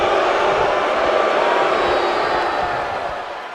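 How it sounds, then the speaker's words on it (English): Arena crowd noise at a CAS World Tour wrestling match, a dense, loud, continuous roar of many voices that holds steady and eases slightly near the end. "And you can hear this crowd here in the CAS World Tour arena"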